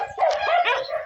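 A dog barks and yips in a continuous close burst, loud and harmonic, with no talking over it.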